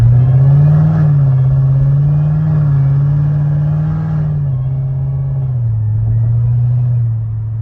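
Corvette C7 Z06 with a modified exhaust rumbling loudly as it accelerates, a deep steady drone that dips slightly toward the end, heard from inside the car with no talk over it.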